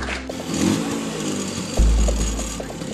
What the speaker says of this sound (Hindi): ये किया स्कूटर स्टार्ट